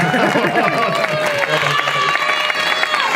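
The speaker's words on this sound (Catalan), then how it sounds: "Aplaudiment per al dimoni," An audience at a storytelling gathering in Penàguila applauds and cheers, a dense, steady wash of clapping close by filling the whole stretch with a busy crowd murmur mixed in.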